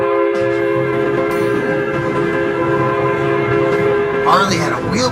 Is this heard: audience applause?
no